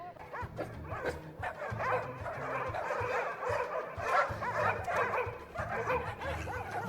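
Several dogs bark, yip and whimper in the Lilo & Stitch live-action remake, a busy stretch of overlapping barking that keeps going throughout, moderately loud over background sound.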